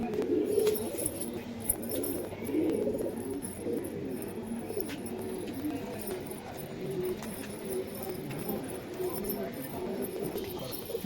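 Pigeons, Pakistani high-flyer kabutar in a loft, coo in soft, repeated low rolls close by, with someone talking over them and light rustling and clicking around.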